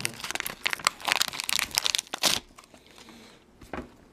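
Vintage wax pack of baseball cards being torn open, with close, loud bursts of crinkling and tearing wrapper for a couple of seconds, then quieter handling and a few scattered crackles.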